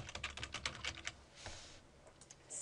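Close, quick typing on a computer keyboard, a dense run of light key clacks that slows into a few scattered taps and a soft rustle before a final keystroke.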